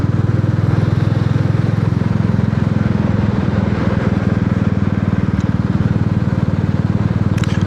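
Royal Enfield Classic 350 single-cylinder motorcycle engine while riding, a loud steady thumping exhaust beat heard up close with wind rush, running continuously without pause.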